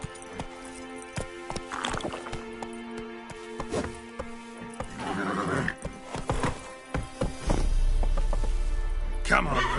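Roach the horse in The Witcher 3 video game neighs and whinnies with clip-clopping hooves, mixed with a spoken voice and game sounds, ending in a loud low rumble.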